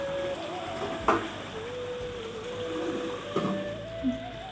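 Chicken curry gravy simmering in a covered pan on the stove, a steady low bubbling and hiss with a couple of faint clinks, no voices.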